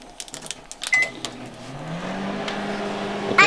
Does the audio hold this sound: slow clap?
no